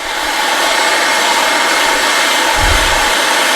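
A heat gun blows steady, loud hot air onto metal during a car roof chop, a continuous broadband roar with brief low rumbles, no talking over it.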